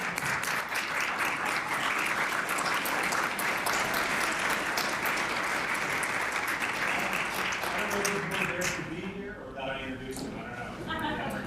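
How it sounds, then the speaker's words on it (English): A chamber full of people in a provincial House of Assembly gives a long, loud round of applause welcoming an artist guest, steady dense clapping that tapers off near the end. "we give him a good round of applause and welcome here to the legislature"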